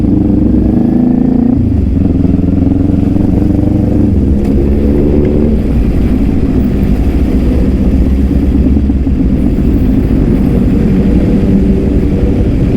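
A Kawasaki Ninja 400 motorcycle being ridden, its engine a loud, steady low drone with shifting pitch and some wind and clatter throughout, with no talk.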